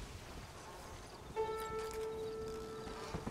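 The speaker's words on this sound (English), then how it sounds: "So I'll go by horse. I have a cool horse here." Horse hooves clip-clopping in the video game Red Dead Redemption: Undead Nightmare, a steady soft beat under a faint game backdrop, with a brief high tonal call partway through.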